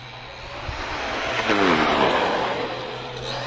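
A HOSIM X25 Vortan 1/8-scale brushless RC truggy driving along a road, its motor a steady whine that rises slightly in pitch midway, heard from a short distance over outdoor noise, no voices.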